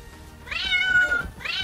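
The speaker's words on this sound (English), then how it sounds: "There's a cat. It's a cat." A young kitten gives two high, wavering meows in quick succession, close and fairly loud, with no talk over them.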